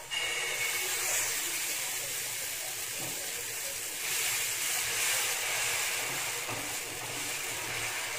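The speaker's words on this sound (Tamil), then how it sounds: "இப்போ இது தோசை ஊற்றி பார்க்கலாம்." Crispy hotel-style dosa batter sizzles on a hot tawa, a broad continuous hiss that stays close and fairly loud with slight swells in intensity and no talking over it.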